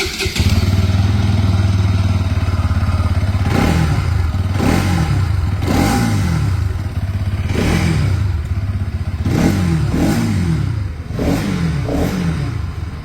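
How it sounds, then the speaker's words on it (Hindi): A Bajaj Pulsar NS200 motorcycle fires up and settles into a steady, close exhaust idle, then is revved repeatedly in sharp, loud throttle blips that rise and fall in a regular rhythm. "मैं आपको दोनों बाइक की side by side exhaust sound सुना देता हूँ।"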